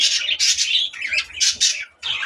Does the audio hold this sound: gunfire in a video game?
no